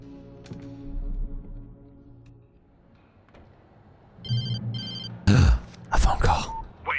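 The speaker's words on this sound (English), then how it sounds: "A phone call." Telephone ringing in the game Alan Wake Remastered: a few short electronic ring bursts rise over dim ambient game sound, followed by louder clattering and movement near the end.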